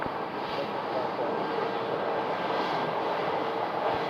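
Airplane engine roar at Phoenix airport on a hot day, a steady, loud, broadband drone that holds level throughout as an aircraft approaches the gate.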